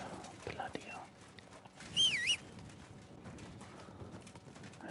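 Horse hooves clip-clop quietly in Kingdom Come Deliverance 2, a few soft irregular hoof steps under faint background sound, with a brief whistling tone in the middle.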